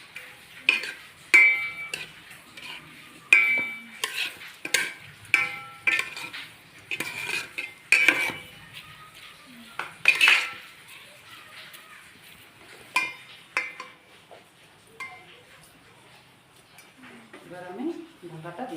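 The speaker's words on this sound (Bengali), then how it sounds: "একটু নেড়ে নিই।" Vegetarian pulao stirred in a pot, a spoon clinking and scraping against metal in irregular bursts, close and fairly loud, with occasional speech between the strokes.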